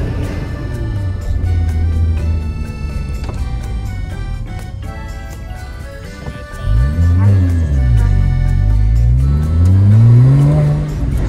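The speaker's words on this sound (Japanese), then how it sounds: "走行会に出場する車でしょうか、速そうな車が来ています。" A fast car pulls in at Mihama Circuit during a track day, its engine rising in pitch with strong revving as it draws close and passes loudly. A steady car engine hum runs underneath throughout.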